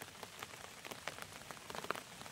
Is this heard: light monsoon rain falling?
yes